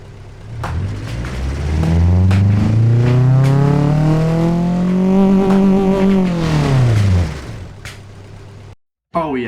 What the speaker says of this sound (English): Let's see what this engine sounds like.